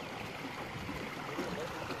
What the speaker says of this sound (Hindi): और ये ज़मीनों तक पानी जा रहा है